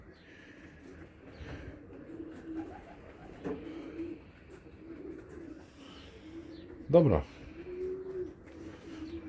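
Pigeons coo in a loft, soft low rolling calls repeating nearby, with a brief louder flutter or call near the end and someone speaking quietly over them.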